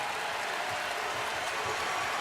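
A basketball arena crowd applauding and cheering after a three-point shot, a continuous loud roar of clapping and shouting that holds steady throughout, heard from within the stands.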